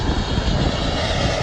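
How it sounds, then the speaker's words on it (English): Jet engines of an Iberia airliner roar loud and steady while it touches down at an international airport, a dense continuous rumble with no pauses. "He just got off the runway just in time for that Iberia to touch down."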